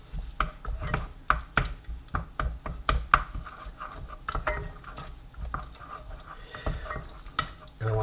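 Teaspoon of tomato paste frying in a pan for a basic tomato sauce, with a steady sizzle under repeated stirring and scraping strokes, utensil clicks against the pan standing out close and clear throughout.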